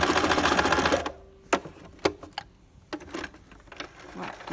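Sewing machine running in a steady burst of rapid stitching as it sews a seam on a dry hot water bottle, then stopping, followed by a few short separate clicks and brief stitch bursts, close and clear with no talk.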